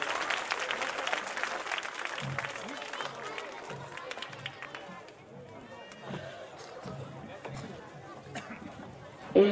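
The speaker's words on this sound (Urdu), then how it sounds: "ایک بار زوردار تالیاں ان طالبات کے لیے۔" Audience applause for schoolgirl contestants called onto the stage at a school literary program, a dense wash of clapping with crowd murmur throughout, loud and sustained before tapering slightly.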